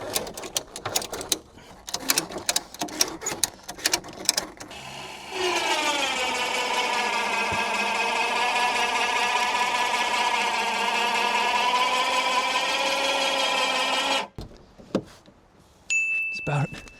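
A homemade automatic e-bike lift runs its motor and gearbox for about nine seconds in a steady, whining hum that slowly rises in pitch while raising the bike, with scattered clicks and knocks before and after.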